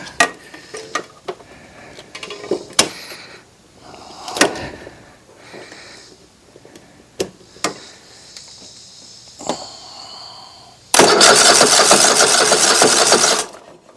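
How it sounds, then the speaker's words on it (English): A Kohler engine on a Hustler mower is cranked by its starter: scattered clicks and knocks from the mower's mechanisms come first, then a loud, steady whirring crank lasts about three seconds before cutting off. "Motor sounded good. Starter works. Motor cranks over."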